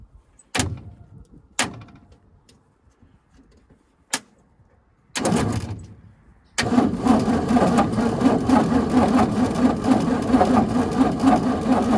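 A Ford 200ci inline-six revived after over 20 years idle gives a few short cranking bursts with sharp clicks between, then a longer crank, before catching and settling into a loud, steady running drone close by.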